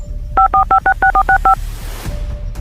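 A telephone keypad dials a quick run of eight clear touch-tone beeps at an even rhythm, followed by low street background in a village setting.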